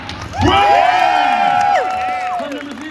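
A street-performance crowd at Ottawa Buskerfest bursts into loud cheering and whoops after a juggling club catch, with shouting voices rising sharply and carrying on steadily before tapering off.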